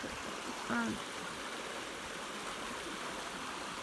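River water gushes in a constant, dense roar close by, steady throughout, with a brief faint birdlike chirp near the start.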